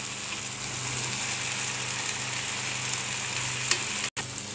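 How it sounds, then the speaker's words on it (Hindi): Masala spices for bhindi frying in a pan, a steady close hiss of sizzling oil that stays even throughout with one brief dropout near the end, no voices. "देखिए हमारा मसाला भुन रहा है"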